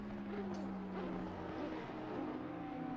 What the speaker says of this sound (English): That Ferrari engine especially screaming.